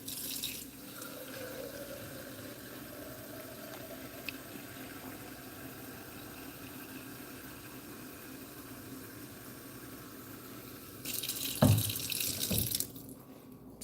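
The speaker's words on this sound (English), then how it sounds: "All right, let's get some water." A kitchen tap runs water into a sink in a steady low stream, then gushes louder near the end, with a clatter as it shuts off.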